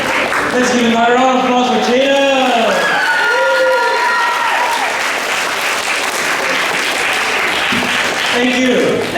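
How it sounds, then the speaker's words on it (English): Loud crowd applause at a student talent showcase, with whooping and cheering voices rising and falling over continuous clapping, then fading briefly before another shout near the end. "Let's give another round of applause for Jada."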